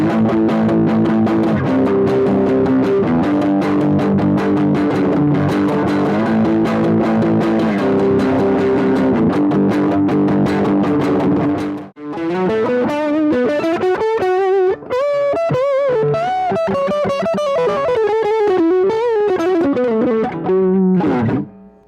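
An electric guitar through two Boss DS-1 distortion pedals, one mild and one harder, plays loud heavily distorted chords, then switches to sustained, bending lead notes with a thick, saturated tone.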